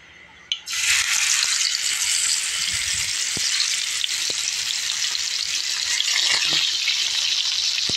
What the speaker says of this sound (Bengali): এখন আমি আস্তে আস্তে ভাজা বসাই দিব